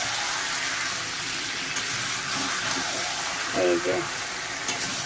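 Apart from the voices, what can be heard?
mutton being stir-fried in wok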